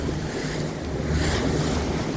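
Rough ocean water off Newfoundland washes and pounds against a small boat. Steady loud surf and wind noise buffet the microphone throughout, with no distinct individual wave impacts.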